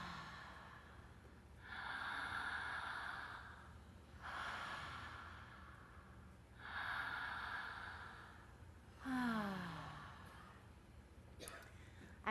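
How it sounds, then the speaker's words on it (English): Three long, deep breaths come close and loud, each a drawn-out airy swell separated by pauses, with a rushing exhale after the third. "Let's take 3 deep breaths."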